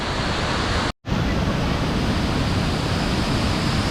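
A waterfall in the mountains near Sapa gives off a loud, steady broadband roar that fills the whole stretch, with one very brief dropout near the start.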